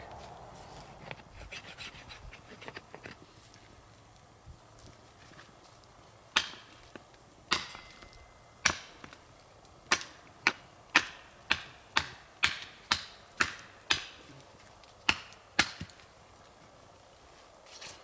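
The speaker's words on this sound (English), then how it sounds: "So, what I'm going to do here, again, is scrape this bark." Repeated sharp scraping strokes on tree bark, sparse at first and then coming in a quick steady series, each a short crisp rasp close by.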